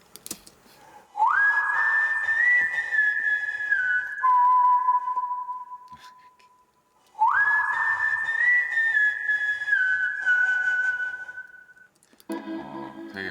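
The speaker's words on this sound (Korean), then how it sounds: "이거 그냥 기타 라인으로 안 하고 휘파람으로 가야겠다 해서 휘파람을 불었습니다." A recorded whistled melody line for a song, used in place of a guitar part. Two long sustained phrases rise and hold clear pitches with a pause between them, close and loud, followed by a brief burst of other sound at the end.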